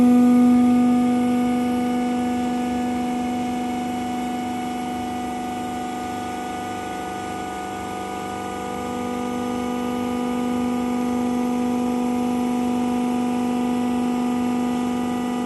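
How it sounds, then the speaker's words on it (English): Steady electrical hum and low mechanical drone from the hydraulic system of a 400L sigma kneader mixer as its cylinder tilts for discharge during a factory test run, swelling slightly then settling, with no talk. "we can make the cylinder tilting for material discharging, like this, cylinder tilting."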